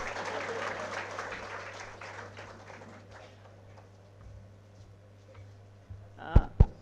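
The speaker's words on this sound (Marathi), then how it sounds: "आता टाळ्या वाजवा." An audience applauds at the close of a lecture, a dense burst of clapping that swells at first and then gradually thins out over several seconds, ending with a couple of sharp knocks.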